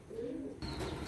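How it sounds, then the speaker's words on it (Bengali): A Colour Giribaz pigeon from Kolkata coos close by in a short, throaty burst, followed by a higher chirp, with no talking over it. "একদম গরম ডাকের পায়রা"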